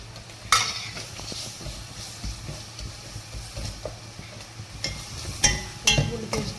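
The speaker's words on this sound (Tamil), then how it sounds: "இஞ்சி பூண்டு பேஸ்ட் நல்லா வதங்கணும்." Ginger garlic paste and onions sautéing in a pan, a soft background sizzle with intermittent scrapes and a few sharp clinks of a spatula against the metal, with no talking.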